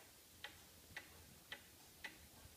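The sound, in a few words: antique Black Forest cuckoo clock ticking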